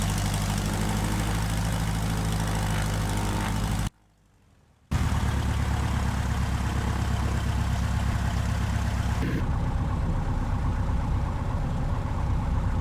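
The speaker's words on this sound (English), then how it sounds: "I'll taxi us up to the runway." A Piper aircraft engine in a flight simulator game, a steady loud droning hum while taxiing, broken by about a second of near silence before resuming, then slightly softer toward the end.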